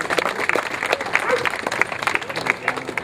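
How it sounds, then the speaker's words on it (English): Round of applause from a gathered audience at a charity event for an air ambulance, irregular clapping heard close with some crowd murmur underneath. "Andy and Mark, can I have a round of applause?"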